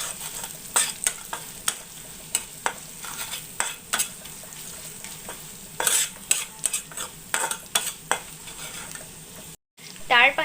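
Sliced onions with turmeric and salt are stirred and fried in a pan for a pork dish. A spoon scrapes in quick, irregular strokes over a soft sizzle, with a brief pause near the end.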